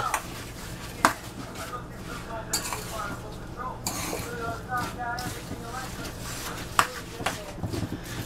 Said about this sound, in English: Now, I want to mix all this up.